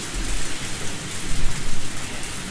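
Heavy rain pours steadily in the Higurashi: Tatarigoroshi game, loud and close, with a low rumbling roll of thunder swelling beneath the downpour; no voices.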